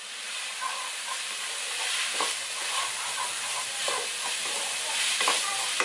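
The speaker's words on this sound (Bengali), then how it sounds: "ফ্লেমটাকে বাড়িয়ে এটা কিছুক্ষণ নাড়াচাড়া দিয়ে নেবো।" Chopped capsicum stir-fried in ghee over a high flame, a steady moderate sizzle with occasional spatula scrapes and soft stirring clatter.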